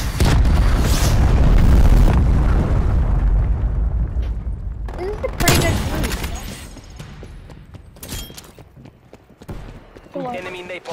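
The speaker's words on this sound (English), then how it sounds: "Cruise missile inbound" A cruise missile blast in a video game: a heavy booming explosion up front, followed by several sharp bursts and rumbling aftershocks that fade toward the end.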